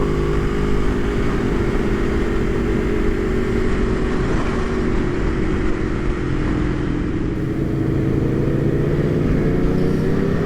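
An Aprilia RSV4 Factory motorcycle lapping the COTA circuit, a loud, steady engine drone held close and continuous throughout without breaks, the pitch drifting slightly as the bike moves through the turns.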